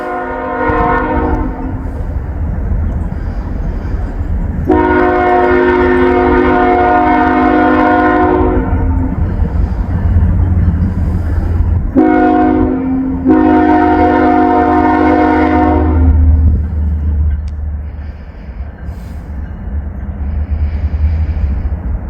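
A Norfolk Southern freight train passes close by, its air horn blasting in two long sounds separated by short breaks over the heavy rumble and roll of the railcars.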